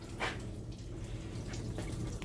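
Coolant gushes and splashes out of a Ram truck's cooling system during a flush, a faint, steady watery spattering with small drips, heard close and alone.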